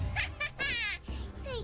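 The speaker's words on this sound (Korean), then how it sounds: "말 중간 중간에 자꾸 야옹 하는 소리를 냈어요" A cat meowing in the video game Onmyoji, several short rising and falling mews in quick succession, close and fairly soft.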